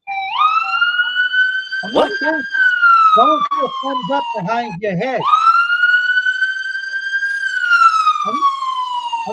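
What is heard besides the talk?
ambulance siren passing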